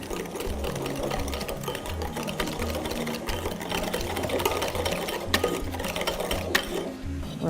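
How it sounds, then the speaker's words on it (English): Infused milk being whisked into an egg yolk custard mixture for dairy-free profiteroles, a continuous rapid clattering whisk against a bowl with a rhythmic mechanical character, close and steady, without speech. "We will slowly add it into our egg yolk mixture and whisk it a little bit."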